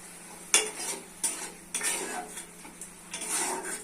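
Masoor lentils tipped into a pan of fried spices and stirred, with close metal spoon scrapes and clinks against the pot over a faint sizzle, a few distinct strokes and no voices.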